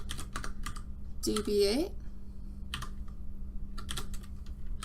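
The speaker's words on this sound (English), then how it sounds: "we're going to type exactly what we have written over here" Steady rapid keystrokes on a computer keyboard entering an IPv6 router configuration, clicking continuously through the clip while someone speaks briefly over it.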